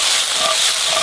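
Red claw crayfish and chopped onions sauteing in a pan being tossed, a steady loud sizzling hiss filling the short moment with no voices.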